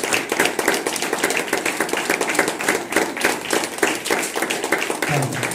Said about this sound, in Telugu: ఒకసారి చప్పట్ల ద్వారా వాజ్పేయి గారికి మనం జోహార్లు అర్పిద్దాం